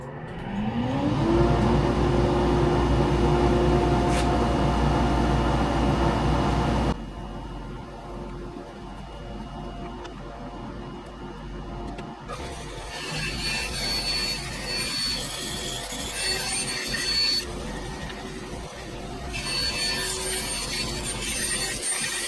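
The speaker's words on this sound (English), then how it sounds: "Let's go over to the bandsaw." Bandsaw cutting wood for a large rustic farm lantern build: a loud motor hum for the first seven seconds, then quieter intermittent rasping cuts through the timber, with bursts of brighter noise toward the end.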